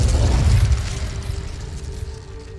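A fire spell, Incendio, cast in the Hogwarts Legacy game bursts out as a loud, dense blast of low rumble and crackle, then fades into a sustained fiery roar that trails off over a couple of seconds.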